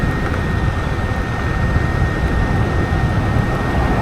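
A 2025 Kaabo Warrior X Plus electric scooter on a speed run, with a steady, loud wind rush and motor drone and a thin whine held throughout, no voices.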